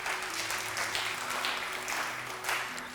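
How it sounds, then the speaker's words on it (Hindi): Studio audience on a Ramadan quiz show clapping for a contestant from GC University Lahore, a steady even patter of applause filling the room, with faint tonal hum or music tones sustained beneath. "इनके लिए बहुत सारी तालियां।"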